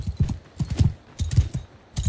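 In a video game battle with horse archers, hooves gallop in a quick, steady rhythm of heavy thuds, close and loud with no voices.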